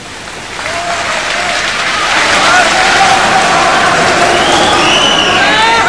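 Applause and cheering from a large audience at a religious talk swell from a quieter start into loud, sustained clapping with scattered shouts and whoops.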